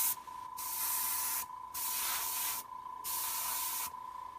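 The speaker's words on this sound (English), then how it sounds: "basically what you do is you spray over the top of the ruler" Airbrush hissing paint over the top edge of a ruler, four sustained bursts of spray separated by short pauses, steady and close with no voices.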